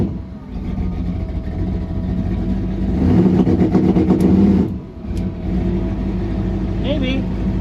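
A drag car engine revs hard in a garage or shop setting, a sustained loud roar swelling mid-clip before dropping back to idle, with popping bursts and voices talking over it.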